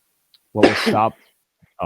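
A single loud, close sneeze bursts out mid-conversation, followed by a brief spoken word from a nearby voice.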